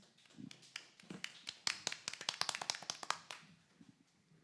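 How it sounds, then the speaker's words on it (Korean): A small audience claps to welcome a contestant onto the stage at a creative festival's final judging, a brief run of distinct, fairly quiet claps that builds and then trails off. "우리 심수민님을 큰 박수로 맞이해 주시죠."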